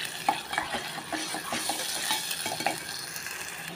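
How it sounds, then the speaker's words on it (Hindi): Garlic and ginger paste fries in a pan for spinach kofta curry, giving a steady close sizzle broken by sharp scrapes and clicks of a spoon stirring against the pan. "आधा चम्मच लहसुन का पेस्ट और आधा चम्मच अदरक का पेस्ट डालकर दो मिनट तक भूनेंगे"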